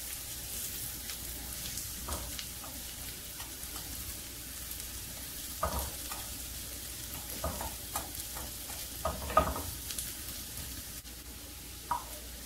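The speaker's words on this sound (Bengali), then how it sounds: "পেঁয়াজের সঙ্গে মশলা কিছুক্ষণ ভেজে নেব।" Onions frying with turmeric and red chilli powder in a pan for egg paratha, a soft steady sizzle with occasional scraping stirs, faint and close.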